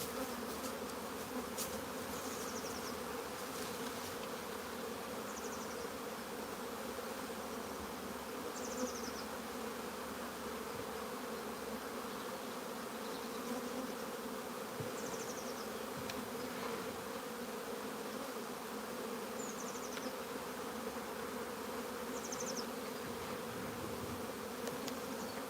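Honey bees buzz around their hives during a nuc transfer, a faint, even drone of many insects with occasional individual bees zipping past nearby.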